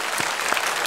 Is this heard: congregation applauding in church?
yes